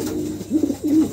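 Pigeons coo in a couple of low, throaty rolling calls close by, with no talk over them.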